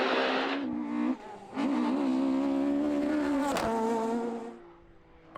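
BMW Mark III rally car at speed on a Donegal International Rally stage, its engine loud and close, revving hard through shifts with a brief lift before pulling strongly again.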